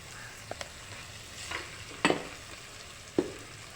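Ribbonfish curry masala frying in a pan makes a soft, low sizzle with a few sharp clicks and scrapes of the spoon stirring against the pan, close by with no talking.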